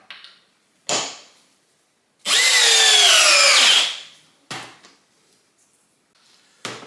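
A compact cordless drill on high drives a 5/16 by 4 inch GRK screw in a single loud, sustained whine of about a second and a half, with brief clunks of handling before and after.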